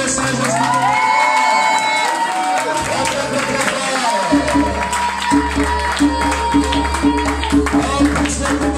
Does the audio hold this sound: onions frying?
no